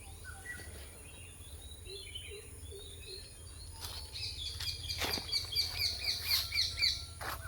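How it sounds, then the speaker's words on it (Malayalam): Shrill parrot calls ring out over a quiet outdoor background, growing louder and more frequent in repeated harsh bursts toward the end. "തത്ത കരയുന്നു."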